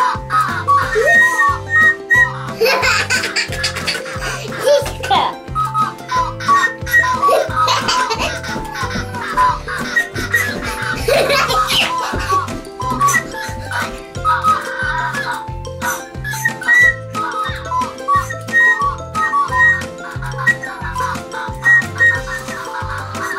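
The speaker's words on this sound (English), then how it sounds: "it also comes with this little whistle" A toy whistle from a Digi Penguins igloo playset gives bright, repeated chirpy whistle notes over a looping electronic melody, loud and close, with giggly voices mixed in.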